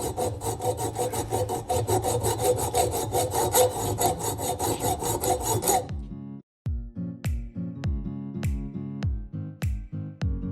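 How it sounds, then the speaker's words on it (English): A hacksaw cuts through a bike fork steerer tube for a Huffy Scout 26-inch mountain bike in steady, rapid rasping strokes, which then slow into distinct, separate pulls near the end. No voices are heard. "I'm just using this hacksaw. This takes a while, but it's the easiest way to make sure that you do it straight."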